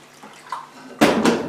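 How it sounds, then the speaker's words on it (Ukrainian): Warm water pours and splashes into a container, about 200 grams, for making invert sugar syrup, starting abruptly after a quiet moment and continuing steadily with a second surge. "Наливаємо водички, грам 200."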